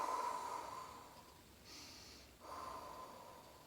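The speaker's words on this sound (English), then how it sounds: "I need to take some brave breaths right now" A person takes slow, deep breaths, an audible inhale and exhale followed by a brief pause and another long breath, close and soft in a quiet room with no talking.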